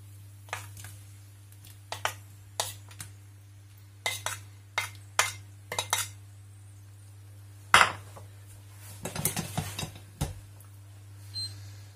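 Chickpea flour and asparagus tortilla mixture stirred in a frying pan over high heat, a spoon scraping and tapping the pan in irregular clicks over a steady low hum, no talk.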